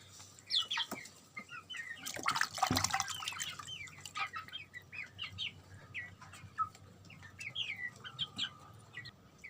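Three hens clucking softly in a cage on a poultry farm in Pakistan, scattered short calls throughout with a brief louder rustle of flapping near the start.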